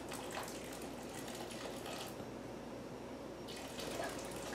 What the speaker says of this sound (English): take 1 cup of boiling water and stir that in your milk